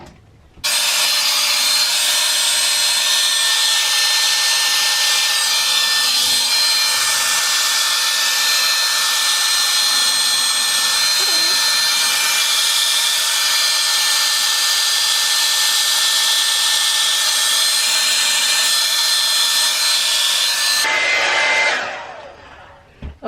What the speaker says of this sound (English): You can use your blow dryer for this part too.